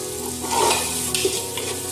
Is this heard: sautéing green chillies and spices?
yes